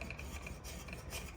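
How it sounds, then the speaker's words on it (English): Bondo body filler on the tank of a '58 Panhead chopper is worked with 36 grit, giving faint, steady, rough rasping strokes in quick repetition, with no one speaking. "Come back with a 36 grit and start working it that way."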